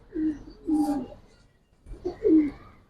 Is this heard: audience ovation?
no